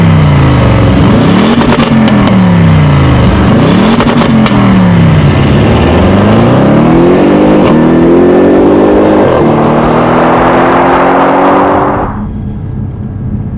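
A 2016 Audi RS7 Performance accelerating hard, its engine rising in pitch through several gears with sharp dips at each shift, then climbing to a loud high-revving peak before cutting off abruptly, close and with no talk.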